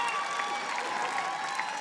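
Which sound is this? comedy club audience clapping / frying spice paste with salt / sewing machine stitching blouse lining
comedy club audience clapping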